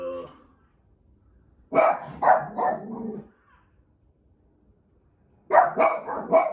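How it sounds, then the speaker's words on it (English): Dogs barking indoors at outside noise: a burst of several loud, close barks, a pause of about two seconds, then another quick cluster of barks. "There's any noise outside, they start barking."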